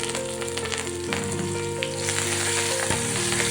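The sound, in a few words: tempering with curry leaves and asafoetida sizzling in oil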